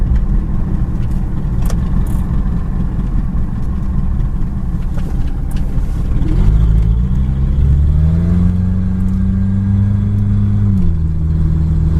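1980 Honda Accord engine fitted with a Weber carburetor, running while driving: a loud, continuous mid-pitched engine drone that rises in revs partway through, then settles and dips back toward a rough, uneven idle.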